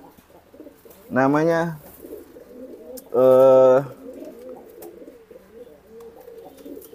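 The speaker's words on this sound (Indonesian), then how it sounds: "Ini anakan merpati pos ya" Two bursts of soft, throaty cooing from young homing pigeons, each lasting under a second, rise over a low murmur of background sound.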